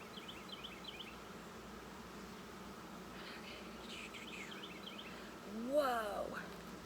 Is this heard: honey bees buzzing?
yes